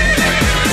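A horse whinnies in a brief, loud, wavering neigh that rises and falls over backing music in a Silesian pop song.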